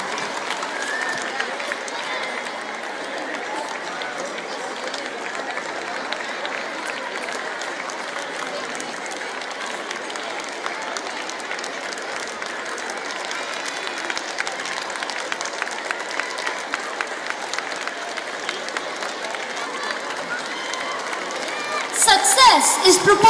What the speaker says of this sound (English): heartily welcome our chief guest with a round of applause